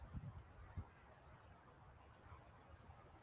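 Two brief, faint honking bird calls sound early on outdoors, followed by quiet ambient background noise.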